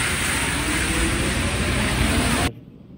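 A ride aboard an RER commuter train heading toward Versailles, a loud steady rumbling roar of the carriage in motion that cuts off abruptly near the end, leaving quieter interior noise.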